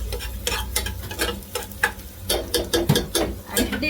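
Rice batter of ground raw rice being stirred in a pan on the stove, with repeated scraping and clacking strokes of a spoon against the pan over a soft sizzle, close and uneven.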